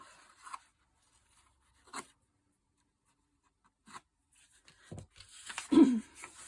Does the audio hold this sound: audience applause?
no